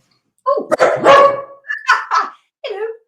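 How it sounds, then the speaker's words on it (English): A dog barks close by in a short burst of about four barks and yips, loud and unaccompanied. "Sorry, that's my dog."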